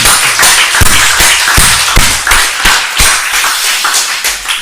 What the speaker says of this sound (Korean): 주님께 박수를 드리겠습니다